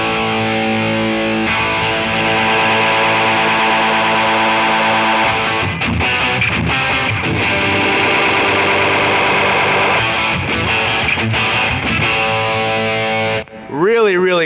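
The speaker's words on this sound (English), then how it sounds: "that's when I like to activate the oscillations in the pedal." A heavily distorted electric guitar drones and swells as a pedal self-oscillates, ending in a warbling, sweeping feedback squeal.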